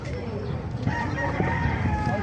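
A Kanawayan rooster crows at a busy poultry market, the call drawn out over constant crowd chatter and background noise.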